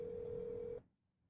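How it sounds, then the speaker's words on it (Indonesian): A telephone dialing tone from a Roblox video game: one steady mid-pitched electronic beep, held for just under a second and then cut off into quiet. "Kita telepon dulu orang rumah nih."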